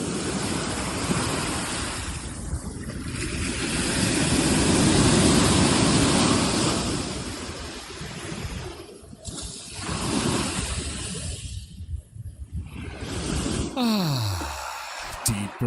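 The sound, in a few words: ocean waves at Huatulco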